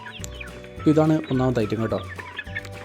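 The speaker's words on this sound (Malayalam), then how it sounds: "നല്ല നല്ല അടിപൊളി നാടൻ കോഴിക്കുഞ്ഞുങ്ങളാണ്" Native chicken chicks cluck and peep close by while someone speaks over them, the clucking continuing steadily under his voice.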